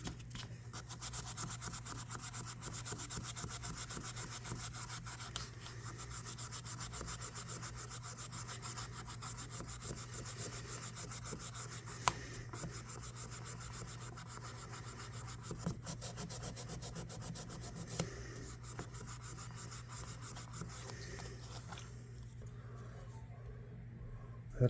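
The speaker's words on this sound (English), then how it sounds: "Let's just take a piece of 1000 grit, sand on this blade just a little bit and see what happens." A worn knife blade is hand-sanded with 1000 grit sandpaper, giving steady, quiet, close-up rubbing strokes in an even rhythm over a constant low background hum, with occasional small clicks.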